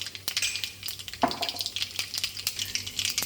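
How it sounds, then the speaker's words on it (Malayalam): Cumin seeds sputtering in hot oil in a kadai, with mustard seeds already added, give a dense, close crackle and sizzle with quick popping bursts and a short scrape of a utensil partway through, and no talk. "ജീരകം ചേർത്ത് കൊടുക്കാം."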